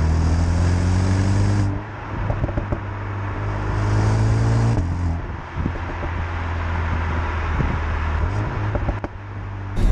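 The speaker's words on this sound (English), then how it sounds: "the exhaust is just enough. It's not crazy loud." Mercedes-AMG A35 engine and exhaust while driving on British B-roads, a steady low drone close up that rises and dips with gear changes, moderately loud without being harsh, with no talking.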